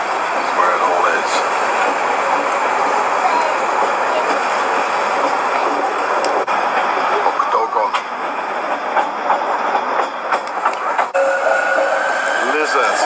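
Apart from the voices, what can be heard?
train at Basel train station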